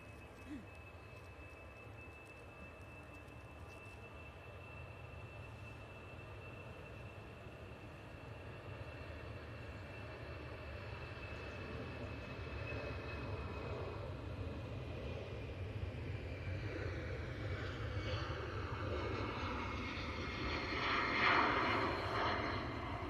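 A Eurowings airliner rolls down the runway at Manchester for takeoff, its jet engines a steady distant roar that swells gradually louder and brighter as it accelerates.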